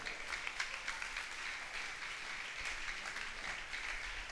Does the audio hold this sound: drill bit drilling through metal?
no